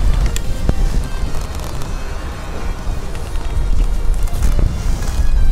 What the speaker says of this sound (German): es ist windig heute